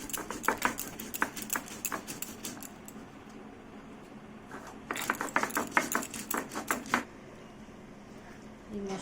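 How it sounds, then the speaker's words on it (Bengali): Poppy seeds, green chillies and black and white mustard seeds are ground with water, giving moderately loud bursts of gritty scraping and knocking strokes in two clusters, separated by a quieter pause. "এবার আমি এই মশলাগুলোকে আমি বেটে নেব জল দিয়ে।"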